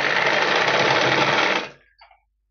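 A sewing machine runs in one steady, fast burst while stitching a blouse sleeve, then slows and stops with a brief mechanical tail; close and loud, with no talking.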